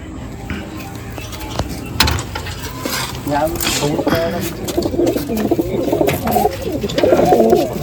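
Madrasi and desi pigeons coo in low, throaty bursts amid rustling and other bird sounds nearby, with the cooing growing busier toward the end.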